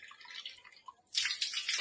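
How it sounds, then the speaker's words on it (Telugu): Water from a bore connection pours into a cup: a few soft drips, then a brief, bright splashing gush close by, with no talk. "ఈ 3వ కప్లో వచ్చేసి బోర్ కనెక్షన్ నుంచి వచ్చే వాటర్ తీసుకుంటున్నాను"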